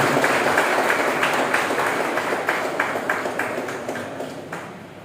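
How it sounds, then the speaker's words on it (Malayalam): An audience at a KVVES Ponnurunni unit event gives a member a round of clapping, a dense, loud burst of applause that slowly fades over a few seconds. "ഒരു കയ്യടി കൂടി."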